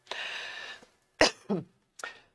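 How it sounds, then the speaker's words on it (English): Several harsh coughs and throat-clearing sounds, close by: a longer raspy one, then two or three short sharp bursts with brief gaps. "Sorry for coughing."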